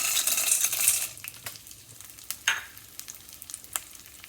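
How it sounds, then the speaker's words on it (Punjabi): Edible gum (gond) frying in ghee gives a loud, dense sizzle for about a second. It then settles into sparse, faint crackles and pops. "ਹੁਣ ਆਪਣੇ ਕੋਲ ਜਿਹੜਾ ਗੋਂਦ ਹੈਗਾ ਇਹਨੂੰ ਆਪਾਂ ਫਰਾਈ ਕਰਾਂਗੇ"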